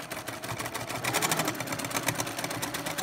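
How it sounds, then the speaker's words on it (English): A sewing machine stitches a quilt with a fast, steady mechanical whirring and ticking that keeps going without pause, heard close and loud. "we're just practicing the sewing"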